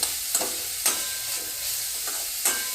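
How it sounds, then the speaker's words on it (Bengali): Semolina pulao with carrots gets stirred in a pan over a steady sizzling hiss, with several spaced scraping strokes of the spoon, close and clear, no voices. "এবার নেড়ে দিলাম, আবার ঢাকা"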